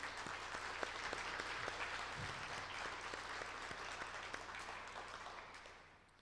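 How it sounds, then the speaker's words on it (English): An audience claps steadily in a conference hall to honor a new citizen, a former poultry-plant worker, at a human rights gathering; the dense applause holds throughout and fades near the end. "I think she should have a round of applause"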